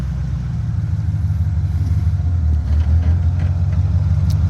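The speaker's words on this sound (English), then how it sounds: "I step right on the clutch and then give it a little gas" Engine of a 1930 Ford all-steel car running with a steady low rumble and a slight rise as the gas is given, close and loud, no talk.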